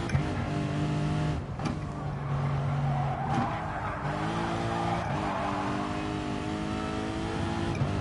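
A car in a PS4 racing video game skids with sustained tire squeals, wavering tones sliding up and down over a continuous engine drone and road noise, repeated bursts across several seconds.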